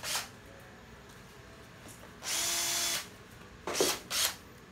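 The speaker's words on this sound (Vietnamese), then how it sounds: "Con này rất là mới. Khoan thử nha." Used Makita power drill with a 13 mm auto chuck given brief test runs, three short bursts of motor whine rising and stopping, the first longer and the last two quick and close together.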